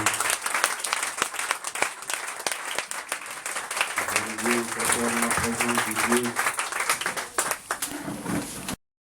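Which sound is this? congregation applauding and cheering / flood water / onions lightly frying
congregation applauding and cheering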